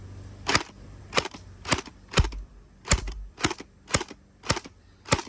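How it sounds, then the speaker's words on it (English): An AC5000 gel blaster fires splatter balls one at a time, a series of about nine sharp, loud snapping shots spaced roughly half a second to a second apart. "We're gonna go single shot for the splatter ball first."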